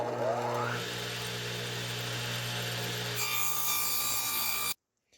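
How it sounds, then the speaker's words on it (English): Steady, close-up sanding of wood, a rough continuous rubbing over a humming motor that shifts slightly partway through, then cuts off abruptly. "I took some sandpaper and I started sanding off the corners there"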